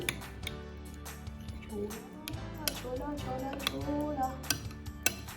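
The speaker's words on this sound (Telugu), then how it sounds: "కొత్తిమీర చక్కగా కట్ చేసి వేసుకున్నాను చక్కగా మిక్స్ చేస్తే చూడండి" A spoon clinks and scrapes around a bowl while chopped coriander is stirred into raita, light irregular metallic taps running steadily under a voice.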